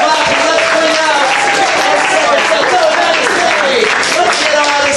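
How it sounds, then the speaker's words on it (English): An audience at a live sidestage show breaks into a round of applause, a loud, dense wash of clapping that runs steadily throughout. Voices sound over the clapping. "So let's give them a round of applause."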